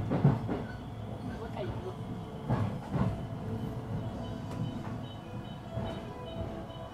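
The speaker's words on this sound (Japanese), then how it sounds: "ここで新快速も新大阪駅に入線。" A JR Special Rapid Service train rolls into Shin-Osaka Station with a low rumbling drone and a few clacking wheel knocks. The sound stays moderately loud and steady, and a voice can be heard at times.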